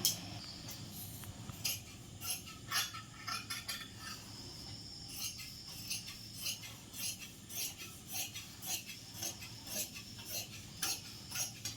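Scissors cutting fabric for a churidar pant on a tailoring table: a faint, regular series of quiet snips and clicks, repeating roughly every half second, with no talk.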